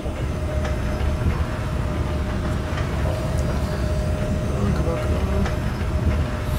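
Continuous rumbling rail noise of a moving train in the video game Dead Space 3, with faint clicks and rattles, steady and close, like riding inside a carriage.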